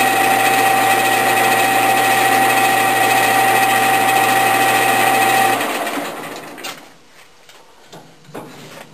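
A lathe turning down the base of an engine cylinder gives a steady, loud mechanical whine with a low hum for about five and a half seconds, then stops, leaving faint clicks and handling noises.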